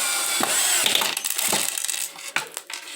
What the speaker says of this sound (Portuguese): alinhe a lateral na parte inferior e fixe o parafuso